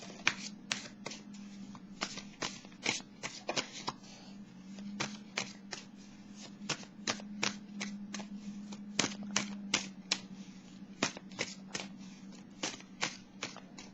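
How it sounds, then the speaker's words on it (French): A tarot deck is handled card by card, producing a long run of crisp, evenly spaced flicks and snaps close to the microphone over a faint low hum, with no talking. "Je vais piger une carte."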